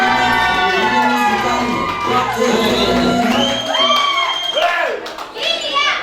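A wedding crowd cheers loudly and close by, with excited shouts and whoops layered over one another; voices dominate, and any clapping is not distinct.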